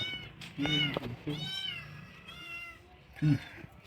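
A cat meows several times close by, drawn-out plaintive cries with short pauses between them, and no talking.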